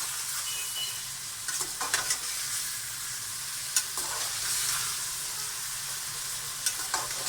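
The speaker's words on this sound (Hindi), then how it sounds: "इनको मैं अब अच्छी तरह से मिला लूंगी चिकन में।" Green chillies and chicken tikka fry in a pan with a steady, close sizzle, broken by occasional scrapes and clinks of a spoon stirring and tossing the pieces, with no one speaking.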